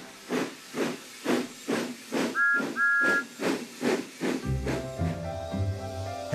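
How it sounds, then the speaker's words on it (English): Steam engines let off rhythmic puffing chuffs with a couple of short, high whistle toots, loud and close, before the scene shifts into music. "The engines whistled."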